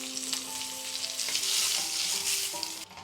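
Curry leaves and dried red chillies crackle and sizzle in hot oil with mustard seeds, a loud continuous frying hiss broken by small pops, with a faint steady tone running beneath.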